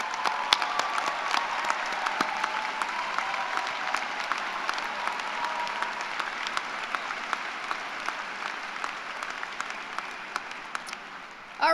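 Sustained applause from an engineering honor society audience for students standing to be recognized, many hands clapping steadily and evenly, tapering slightly near the end.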